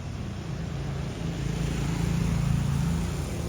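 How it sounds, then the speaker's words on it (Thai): Thai express diesel railcar No. 44 from Surat Thani to Bangkok, three cars with 350-horsepower Cummins NTA 855R1 engines, passes as a steady low diesel rumble that swells slightly, heard at a moderate distance. "ตัวนี้นะครับเป็นเครื่องยนต์แบบคัมมินนะครับ NTA 855R1 ขนาด 350 แรงม้าแบบอิสระนะครับ"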